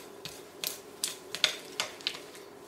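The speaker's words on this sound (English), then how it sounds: "Then grab yourself a spoon and just mix all of this together." A spoon mixes condensed milk in a bowl, giving a few soft, irregular clinks and scrapes at close range against a quiet background.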